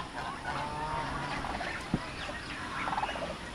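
Turkeys gobble faintly in the background amid other fowl, with a short burst of rapid gobbling near the end.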